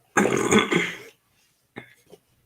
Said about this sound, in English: Sorry for clearing my throat so often.